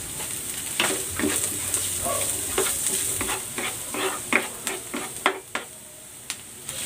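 Garlic, ginger and onion sauté for chicken curry, oil sizzling softly under repeated spatula scrapes and stirs against the pan, close by and growing more clattery toward the end.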